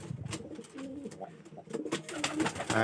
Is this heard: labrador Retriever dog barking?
no